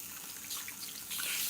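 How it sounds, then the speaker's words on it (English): Warm tap water runs steadily over hair as relaxer is rinsed out, a continuous close splashing hiss with no talking. "So Ash is rinsing off her relaxer. We're using warm water, by the way"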